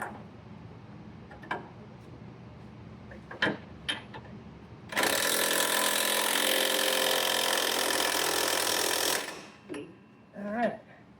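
An impact wrench hammers on the bottom shock bolt of a Ford Expedition in one loud, steady burst of about four seconds, with scattered clanks and handling noises before and after.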